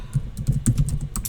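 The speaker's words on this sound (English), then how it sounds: "So when I'm typing, I constantly have to sort of slam onto the space bar." Typing on a computer keyboard during a webinar: a steady run of sharp keystrokes with heavy, thudding slams on the space bar, close and clear with no talking.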